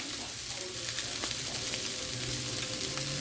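A ground-meat shepherd's pie filling seasoned with salt, pepper and parsley is stirred in a hot pan, a steady soft sizzle with light scraping, fairly quiet and with no talking.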